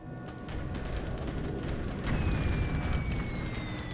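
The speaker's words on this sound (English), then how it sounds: "More bombing by some Bettys" Continuous rumbling blasts and booms from bombing by Betty aircraft in a Pacific War strategy game, forming a dense, steady roar that swells partway through, with a faint descending whistle on top.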